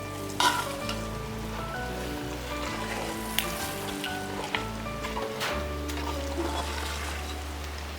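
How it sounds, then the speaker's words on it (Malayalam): Steady frying sizzle as a tempering is stirred into ven pongal, with a few scrapes of a spoon and a low continuous hum underneath, close by and without talk. "നല്ലപോലെ ഒന്ന് ഇളക്കാം."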